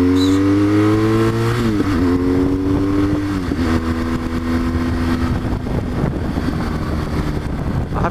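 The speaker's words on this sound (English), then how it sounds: "I'm very pleased with the exhaust I've put on here, the Arrow can that I fitted" Motorcycle fitted with an Arrow exhaust can, loud and close, accelerating hard with a rising engine note that drops briefly at two gear changes, with wind buffeting throughout.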